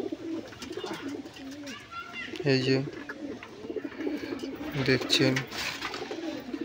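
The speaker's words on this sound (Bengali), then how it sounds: "ভালো ভালো পায়রা আছে বন্ধুর কাছে" Pigeons in a friend's tiled-roof pigeon loft, several soft throaty coos and some chirps repeating close by, beneath someone talking throughout.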